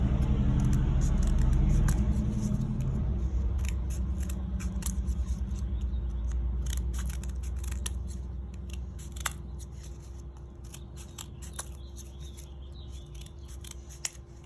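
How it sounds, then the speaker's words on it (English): Scissors snip along the edge of a paper towel for a homemade smoke bomb fuse, a run of sharp, close cuts over a loud, steady car rumble, with no talking. "now that we've cut everything up, let's just cut this part, like the edge of the paper towel, to make a little fuse"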